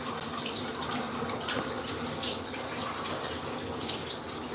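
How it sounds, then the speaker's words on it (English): Tap water runs steadily at home into a basin for a foot soak, a constant hissing, splashing stream close by and fairly loud, with no talking. "I'm gonna run some water."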